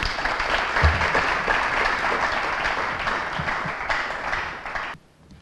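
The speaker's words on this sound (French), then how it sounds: "Vous pouvez les applaudir" An audience at a school finale event applauds steadily for several seconds, a full, even burst of clapping that stops abruptly near the end, leaving near silence.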